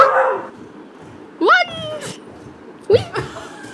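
A dog lets out two sharp, rising barks or yips about a second and a half apart, loud and close, with a voice heard briefly at the start.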